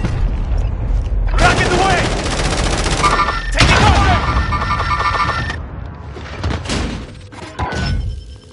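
Bursts of rapid gunfire and heavy booms from a Call of Duty Warzone match, loud volleys in two main stretches followed by sparser thuds, with voices talking over the action.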